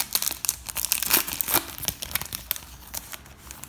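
Tim Hortons 2019-2020 hockey card pack wrapper torn open by hand, a close, continuous crinkling and ripping of thin foil packaging lasting a few seconds, with no voices.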